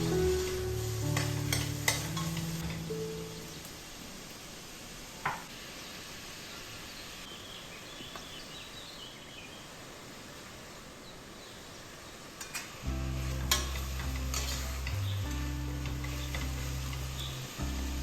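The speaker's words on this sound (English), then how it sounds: "Slice 2 large onions and saute well." Sliced onions sauté with crushed ginger and garlic in a pan as a soft steady sizzle, stirred now and then with scattered clicks, while a low hum runs through the start and end.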